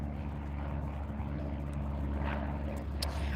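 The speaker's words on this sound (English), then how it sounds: "You guys are going to hear some planes" A propeller airplane drones steadily overhead near a lagoon, a continuous low engine rumble with no speech.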